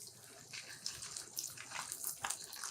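Branzino sears in olive oil in a pan, giving a faint, soft, steady sizzle with small crackling pops rising and falling.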